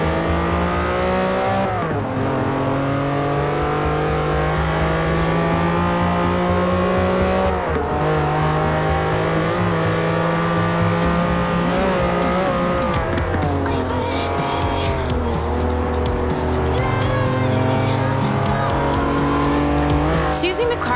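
A Lamborghini Countach in Forza Horizon racing at full throttle, its engine droning loud and steady with repeated gear-change dips and squealing tires, under continuous game music and effects.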